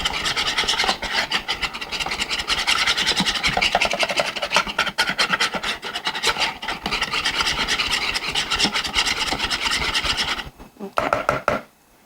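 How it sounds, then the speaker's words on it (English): Whisk stirring a protein ball mixture in a bowl, a continuous close scraping and rubbing with quick rhythmic strokes that stop near the end. "And then I'm just gonna stir that all up."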